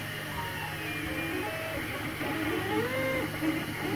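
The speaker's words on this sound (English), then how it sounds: "this is basically what it looks like while it's printing" A 3D printer builds a PLA plastic face mask prototype, its stepper motors whirring and whining in shifting, gliding pitches over a steady low mechanical hum, moderately quiet and heard alone.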